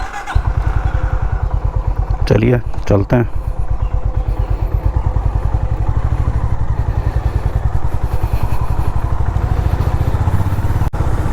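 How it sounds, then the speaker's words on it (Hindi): A Honda CB350 RS motorcycle fires up and settles into a loud, steady, thumping single-cylinder idle close by, with a brief clattery rev near the start and a few words spoken over it. "बाइक स्टार्ट करनी है और निकलना है"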